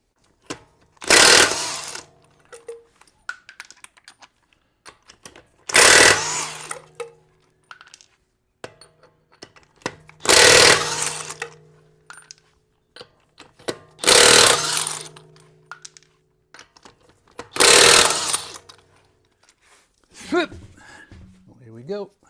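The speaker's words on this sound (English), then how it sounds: "So we can spin off" A power tool spins lug nuts off the front wheel of a Lexus LX570 or Land Cruiser in five loud, close bursts of a few seconds each, with quiet pauses between them.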